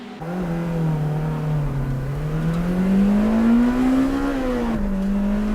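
A Honda Integra Type R DC2 and a Civic EK9 race off the start at Ebisu in 2001, their engines rising in a loud, steady, close-up howl that dips briefly near the end and climbs again.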